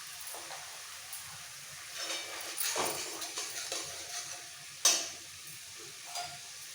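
A papaya curry is sautéed with red chili powder in a pan, with a low, steady sizzle, occasional stirring scrapes, and one sharp utensil clink near the middle.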